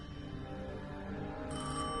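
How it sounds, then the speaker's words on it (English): A telephone ringing in the Destiny 2 video game, a steady electronic ring over low ambient game drones, rising slightly louder toward the end. "I knew if I didn't pick up that phone, I'd regret it for the rest of my life."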